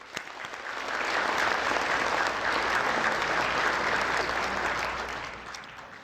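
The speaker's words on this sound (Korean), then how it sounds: "다시 한번 박수 치겠습니다." An audience at a national prayer breakfast bursts into applause that swells quickly, holds as a dense sustained clatter of many hands, then tapers off; no voices stand out.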